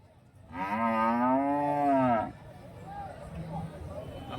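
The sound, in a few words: dairy cow mooing at a cattle market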